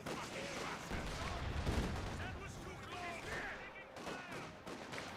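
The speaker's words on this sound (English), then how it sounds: "we have a bundle grenade being thrown" Bundle grenade thrown during a Company of Heroes 2 battle, landing in a heavy low blast amid scattered gunfire and rumbling battlefield noise, with a voice talking over it.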